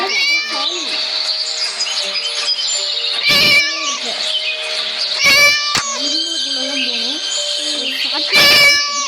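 Cartoonish cat meows and caterwauls from the Scary Teacher video game, loud and near, repeating continuously with brief bursts of other game noise between calls.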